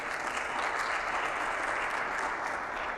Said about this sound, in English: please give a round of applause to our panelists here